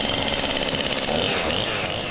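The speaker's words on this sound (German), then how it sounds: "fängt man natürlich erstmal an mit einer größtmöglichen Kettensäge." A large chainsaw cutting into a log to carve a wooden sculpture produces a loud, close, unbroken buzzing whine at steady revs.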